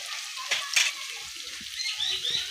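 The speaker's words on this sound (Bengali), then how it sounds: "আদা রসুনটা একটু ভালো করে ভেজে নেব, যতক্ষণ না কাঁচা গন্ধটা চলে যায়।" Ginger and garlic fry in a pan for an egg curry, giving a steady soft sizzle with a few sharper crackles and stirring scrapes near the start and end. No one speaks.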